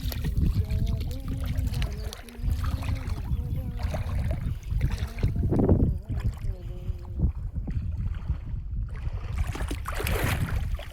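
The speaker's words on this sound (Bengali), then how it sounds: "তুই জল নাড়াচ্ছিস, এত জল নাড়ালে কি থাকবে মাছ?" Water is stirred and splashed by hand while fishing from a small boat, with uneven sloshing and trickling close by and voices talking over it through much of the clip.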